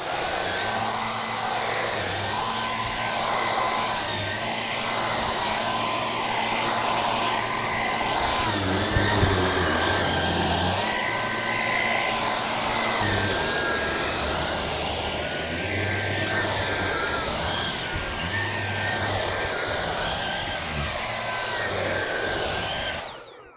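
A Dyson Car+Boat handheld vacuum cleans a rug with a loud, continuous high whine and airy rush, its pitch dipping briefly as the brush head presses into the pile, then running steadily until it cuts off at the end.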